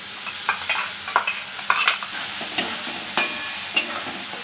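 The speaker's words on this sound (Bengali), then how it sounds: "এবার হলুদ দিয়ে কষিয়ে নেব" Turmeric and Kashmiri red chili powder frying in oil for a mushroom dish, with repeated spoon scrapes and taps against the pan over a light sizzle, no voices.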